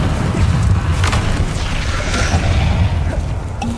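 Incendio fire spell blasts in Hogwarts Legacy, a dense roaring burst of booming fire and crackle that fills the whole span loudly, with scattered pops and impacts from combat layered over it.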